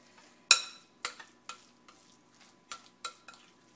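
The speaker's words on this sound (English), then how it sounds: "So just mash it all up, and then I'm going to just stir it up." Baked potatoes and yams are mashed and stirred in a bowl with a masher or fork, making a series of soft, close, irregular squelching knocks and scrapes, about eight distinct strokes.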